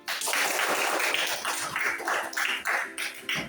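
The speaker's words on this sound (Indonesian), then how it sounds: "Tepuk tangan untuk teman" Students in an elementary school classroom at SD Negeri 7 Ambon applaud a classmate, a short burst of uneven, scattered hand claps from a small group nearby, rising and falling in loose waves.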